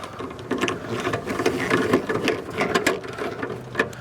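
The newly replaced blower motor of an Attwood RV furnace spins with a close, rattling mechanical whir, continuous and fairly loud, with small ticking irregularities.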